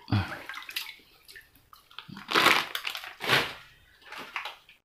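Fish salt is stirred into a container of water for betta fish, giving a few short sloshing and scraping swirls close by, with quiet gaps between them.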